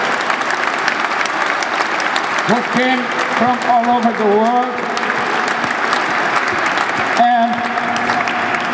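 Audience applause at a book presentation, sustained clapping from a crowd that runs throughout while someone speaks over it.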